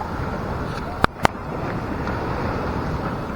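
Gentle ocean waves wash steadily at a sheltered beach cove in Bataan, a continuous broadband roar with wind buffeting the microphone, broken by two sharp brief clicks partway through.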